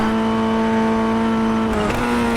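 A Formula Ford race car in the iRacing game, its engine holding a loud steady high-pitched drone with strong harmonic whine, dipping briefly in pitch as if shifting before carrying on, with no talking.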